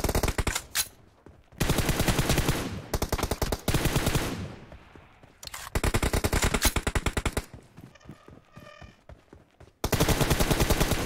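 Rapid bursts of automatic gunfire in a shooting video game, loud and close, in repeated volleys separated by brief pauses, with the final stretch a dense sustained burst.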